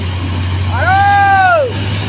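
A tour bus engine rumbles steadily at close range on a hillside road, with a rising, falling tonal whine as it passes, under faint background voices.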